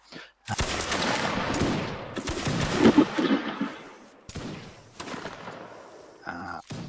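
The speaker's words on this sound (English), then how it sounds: "form a line to my right and fire at will at that enemy horse" Musket volleys crack out in Mount and Blade Warband: Napoleonic Wars during a line battle, several loud overlapping bursts of gunfire that ring on and fade, with ragged shots following.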